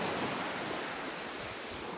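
Ocean surf rolls in front of a beach resort in Iloilo, a steady, continuous wash of breaking waves with no voices.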